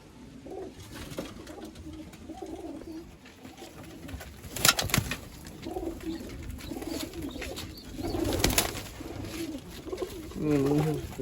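Pet pigeons in a loft coo repeatedly in soft, low rolling calls at close range, with someone talking over them throughout.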